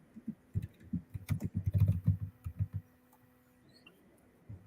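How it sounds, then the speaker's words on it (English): Keys are tapped on a computer keyboard in quick irregular bursts, soft and close, with a short flurry in the middle before it trails off to near quiet. "Are you typing?"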